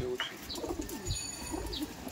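Pigeon cooing from a pigeon pair in a loft kept by a pigeon fancier, repeated low throaty coos close by, with faint chirps and background noise and no talk.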